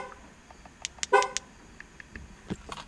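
Short bursts of a car horn, one honk louder and longer than the others, with quiet background sounds in between and no talking.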